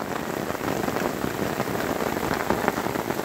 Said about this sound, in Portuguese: Cai uma camada de água em cima do guarda-chuva.